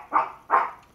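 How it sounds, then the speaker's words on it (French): A dog in a home kitchen gives two sharp, loud barks in quick succession, close by, while a braided brioche is being made. "c'est mon chien qui vient d'aboyer"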